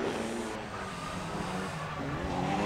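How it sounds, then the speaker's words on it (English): A drift car on Zestino tyres drones loudly and continuously during BDC Pro-Am qualifying, its pitch rising and shifting as the tires strain and squeal faintly against the track. "you can hear him really, that car struggling"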